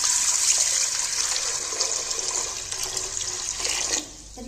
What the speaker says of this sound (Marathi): आता आपण त्याच्यामध्ये पाणी ओतणार आहोत